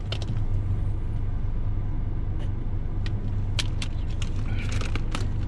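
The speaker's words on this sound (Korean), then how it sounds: "핸들을 왼쪽이나 오른쪽으로 꺾어서 주차 한번 해보고 나갈게요" A car slowly turns into a parking space inside a supermarket parking garage during a beginner driving lesson: a steady low engine rumble throughout, with scattered faint clicks and ticks over the top.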